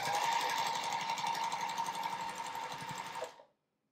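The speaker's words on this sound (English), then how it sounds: "So I sew those two together, right sides together, don't cut the thread, and sew the next two squares together." A sewing machine chain-pieces quilt block squares for an Ohio Star block, running in a steady fast mechanical rattle for over three seconds, close and moderately loud, then stopping abruptly.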